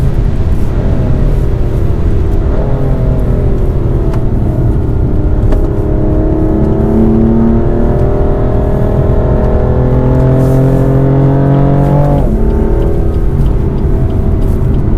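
A BMW M car runs a slow warm-up lap on a race track, its engine a steady loud drone with smoothly rising and falling harmonics through gear changes, close and continuous with no talking.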